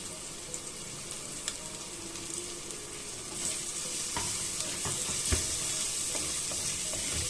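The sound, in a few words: sautéing chopped tomato for coconut fish curry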